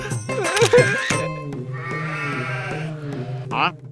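A pet goat bleats in a comedy film scene, with a long wavering bleat after a burst of voices and clatter and a short bleat near the end, close and clear.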